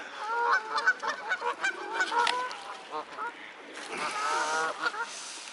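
A flock of swans on a pond honk in a noisy, overlapping chorus of repeated calls, some near and loud, with a fresh burst of honking toward the end.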